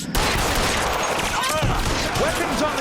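Dense, continuous gunfire from L.A. Noire Remastered (2017) on PlayStation 5 fills the whole stretch at steady loudness, with a voice talking over it.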